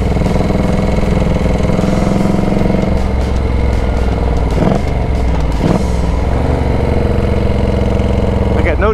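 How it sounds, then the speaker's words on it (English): A Moto Guzzi motorcycle engine idles loudly and steadily nearby, a low even rumble that stays constant throughout, with faint clunks partway through. "She's idling good."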